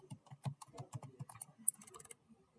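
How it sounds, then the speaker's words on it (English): Quiet, quick keystrokes on a computer keyboard as a git config command is entered, an uneven patter of close clicks with no voice. "So I'll type git config"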